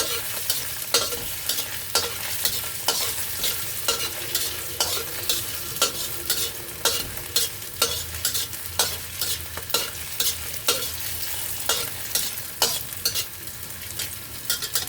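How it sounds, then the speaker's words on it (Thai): Shiitake mushrooms stir-fry in a pan for vegetarian fried rice, with a constant close sizzle cut by regular, rhythmic scrapes of a spatula roughly every half-second throughout. "ใส่หอมลงไปก่อนนะคะผัดเห็ดหอมก่อนจ้า ผัดให้หอมเลยนะคะ"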